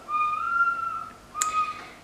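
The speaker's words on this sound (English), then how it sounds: "he's just whistling away." A young boy whistles a simple tune indoors, holding one long steady note, then after a short pause a sharp squeaky rise into another sustained note, close and fairly soft.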